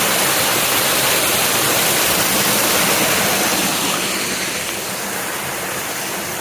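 A waterfall roars as a dense, continuous wash of falling water near a cave, loud and close, easing slightly toward the end with no voices.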